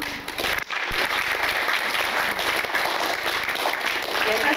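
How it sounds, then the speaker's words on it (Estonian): A crowd applauds at a 2003 band reunion, with sustained, full-sounding clapping from many hands that stays loud throughout after a brief dip near the start. "Ja teeme veel ühe aplausi."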